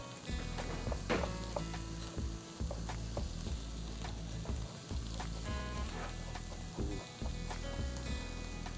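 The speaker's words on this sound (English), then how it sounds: "I'm browning the vegetables lightly here in the pan next to me." Vegetables and peeled ginger browning in a hot pan, a steady close sizzle and crackle with scattered pops and occasional stirring scrapes throughout, no voices.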